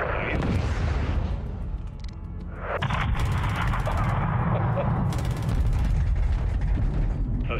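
Gunfire and explosions in the Call of Duty: Modern Warfare 2 (2022) campaign, with loud dense bursts of shots, heavy booms and metallic mechanical clatter close in a chaotic battle.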